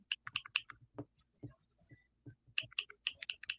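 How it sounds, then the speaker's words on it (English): Typing on a computer keyboard, with quick bursts of sharp clicky keystrokes at the start and end and a few softer, duller taps in between, close and fairly faint. "What are you typing at?"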